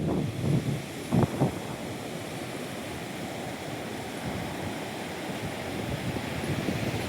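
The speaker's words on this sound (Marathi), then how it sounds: "समुद्राची लाट" Sea waves roll in at Tondavali beach on the Sindhudurg coast under an overcast sky, a steady broadband surf wash with wind buffeting the microphone and a few brief louder surges near the start.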